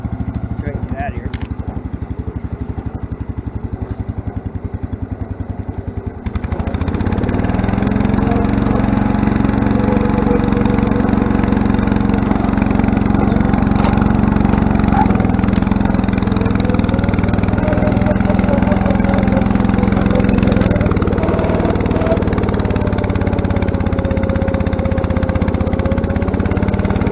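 A riding lawn mower with flat tires, running in third gear with its deck raised. After a quieter opening, its engine kicks in loud and close and holds a steady, throbbing drone.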